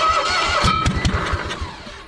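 A 1965 Cushman Truckster's small engine cranks over repeatedly, a fast, steady run of close, loud turnover pulses for about two seconds without catching.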